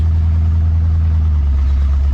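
A 1972 Dodge Challenger muscle car drives with its exhaust hanging loose, giving a loud, steady, close engine rumble with no pauses.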